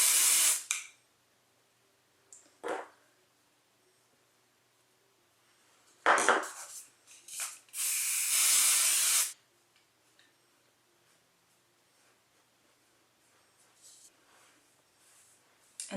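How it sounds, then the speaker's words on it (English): Amika Fluxus hairspray sprayed onto hair in short hissing bursts: a quick spritz, a brief tap, two more short sprays, then one longer sustained blast, each close and crisp, separated by near silence. "I'm going to use my favorite hairspray at the moment,"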